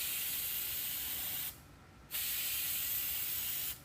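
Aerosol clear gloss coat hisses steadily from a can held a few inches from a part, applied as wet coats: one long spray burst, a brief pause, then a second long burst, close and alone.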